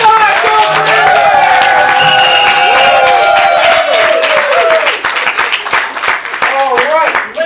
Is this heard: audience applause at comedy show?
yes